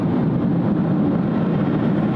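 A chocked airliner at Sydney Airport runs up engine power, a loud steady jet roar holding near and constant with no talk over it.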